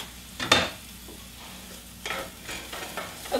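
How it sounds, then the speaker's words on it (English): Softening onions fry in a pan for a light tomato stew, with a low sizzle under a few distinct scraping stir strokes spaced out over a few seconds. "Occasionally stir these onions."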